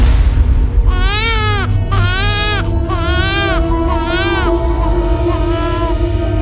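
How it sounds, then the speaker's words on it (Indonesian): A mournful baby cries in four drawn-out wailing bursts over a low steady hum, loud and close. "suara tangisan bayi yang pilu"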